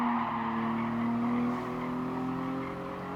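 A Toyota race car in GT Sport, in a Toyota Cup race on the Nordschleife, brakes late: a steady, loud engine drone with a slowly sliding pitch and a faint scrubbing tire edge, with no voices.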